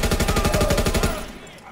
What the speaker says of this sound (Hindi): ये रैम्बो की गन है जिसमें गोलियां बहुत कम हैं।